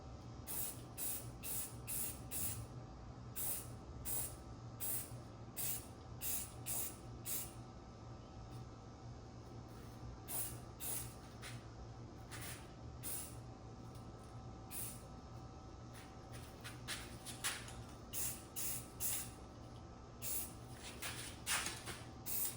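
Short bursts of spray paint laid as light coats on a Sig Cross rifle, a run of quick hissing sprays of roughly half a second each, close up, with brief pauses between groups and a faint steady background hum.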